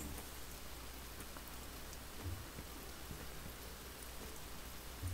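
Steady rain falls in the video game Stonehearth, a dense, even hiss of drops close by with a few faint low rumbles beneath, no talking.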